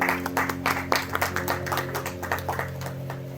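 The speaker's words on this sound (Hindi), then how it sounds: "जोरदार तालियों से सर का स्वागत करेंगे।" An audience at a Buddha Jayanti lecture event claps warmly to welcome a guest, giving a brisk, continuous patter of many hands that stays moderately loud throughout with a faint steady hum beneath.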